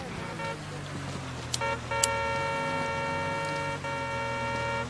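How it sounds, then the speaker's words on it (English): A vehicle horn in the video game Project Reality toots in short and longer blasts, a few separate honks over a low engine rumble, fairly close. "What are you honking at me for?"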